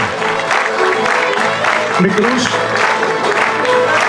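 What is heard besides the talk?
audience applause welcoming musicians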